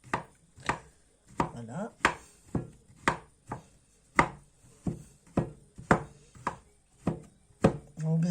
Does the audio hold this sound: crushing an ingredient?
yes